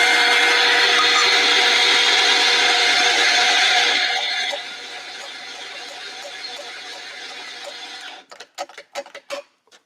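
A coffee grinder whirs loudly as it grinds beans for about four seconds, then drops to a quieter running hum, ending with several sharp taps and knocks.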